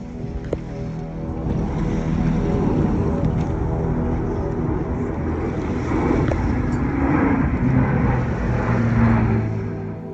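Large flying boat aircraft passing low over a small boat on a cold day in the Sound of Mull, a loud sustained engine roar that swells and fades under heavy wind buffeting.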